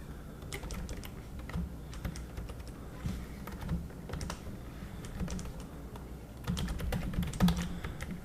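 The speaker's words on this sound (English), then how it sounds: "I'm gonna type in a website password for the website." Someone types a password on a computer keyboard, producing a steady run of quick, close key clicks with a few heavier presses near the end and no talking.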